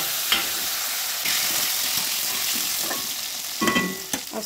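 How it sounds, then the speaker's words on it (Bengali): Cut potatoes sizzle loudly as they hit hot oil with fried tempering spices in a pan for a Bengali dish, a steady frying hiss with scraping stirs and clatter toward the end. "তো আলুগুলোকে দিয়ে দেবো।"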